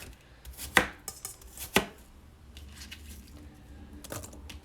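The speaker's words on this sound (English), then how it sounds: "So I'm just doing little dices." A knife dices apples on a cutting board, with a few sharp, close chops and softer taps spread out over quiet room tone.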